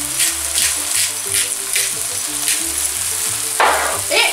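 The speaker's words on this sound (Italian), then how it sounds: "Ho rialzato la fiamma, andiamo ad aggiungere le mazzancolle, aggiungiamo ancora un pizzico di sale, il pepe bianco" Prawns (mazzancolle) sizzle and fry steadily in a hot pan over high heat, seasoned with salt and white pepper, with rhythmic stirring or tossing throughout.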